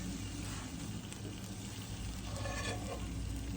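Food sizzles faintly and steadily in an old, cheap cast iron skillet while someone cooks in a shop. The soft, continuous hiss does not let up.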